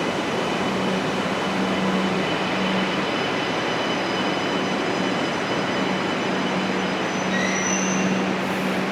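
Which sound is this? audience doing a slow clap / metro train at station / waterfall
metro train at station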